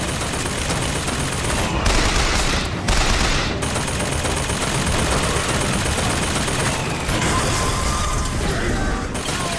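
Enemies trade rapid automatic gunfire and heavy shots in Bioshock Infinite, a dense, loud, continuous fusillade with brief gaps and crashing impacts.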